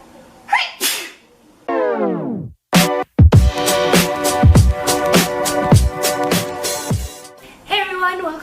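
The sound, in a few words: woman sneezing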